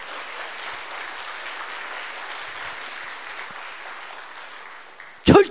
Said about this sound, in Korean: 다시 한번 박수 한번 주시면 감사하겠습니다